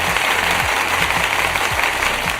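A large arena crowd at a UFC pay-per-view event applauds steadily for fighters Terrence McKenna and Chris Duncan, a dense wash of clapping and cheering with a rhythmic drum-roll pulse running underneath.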